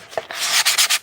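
Sandpaper rubs over the surface of a dried gourd in short, scratchy strokes that quicken into a steady rhythmic rasp, close and fairly loud with no talk.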